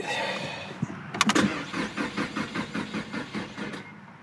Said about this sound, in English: I don't know why it's having such a tough time starting, and then it only gets a couple cranks in